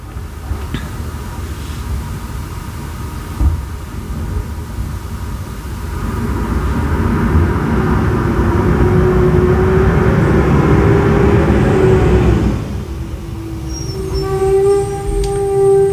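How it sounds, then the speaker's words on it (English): A heavy vehicle rumbles past outdoors, swelling into a broad roar, then cutting off abruptly, followed by a faint high tonal whine, with no talking. "Like a truck or something outside."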